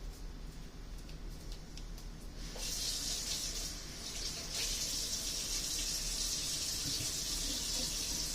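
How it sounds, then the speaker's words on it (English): Tap water runs into a sink while carrots and potatoes are rinsed, a steady splashing stream that grows louder and brighter as the flow hits the vegetables, close by and with no talking. "And now all I have to do is wash them off"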